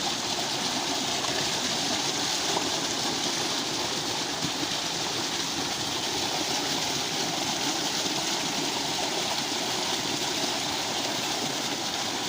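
Water gushing hard and continuously from a 7.5 hp solar-powered tubewell outlet on a farm, a dense, steady rushing roar that stays even for the whole stretch with no voices.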